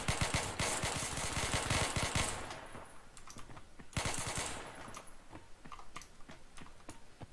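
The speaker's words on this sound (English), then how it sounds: "I heard a lot of shooting." Video-game gunfire in Call of Duty's Operation Scorpion mode: loud, rapid automatic bursts rattling off in two heavy volleys, with scattered single shots in between and trailing off at the end, with no talking.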